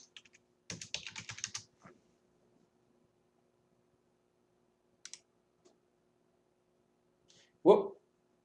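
Computer keyboard typing at close range, a short burst of quick clicking keystrokes followed by a few isolated taps and a louder final key press, faint and otherwise quiet.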